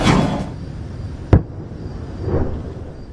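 One sharp, loud bang cracks out amid a low rumbling background during nighttime conflict in Gaza, with softer distant booms before and after.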